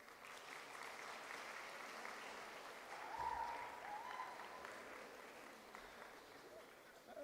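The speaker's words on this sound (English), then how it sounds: "Turn round and face that way and give these a clap" A crowd at a university nursing and health faculty graduation claps in a soft, even wash that swells briefly midway and then continues steadily, heard from a distance.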